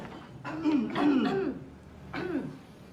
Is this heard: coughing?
yes